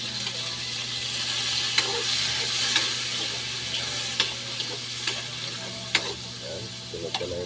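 Onion sautés for pakbet with a steady sizzle in a pan, punctuated by several sharp ladle taps and stirring scrapes, over a low background hum.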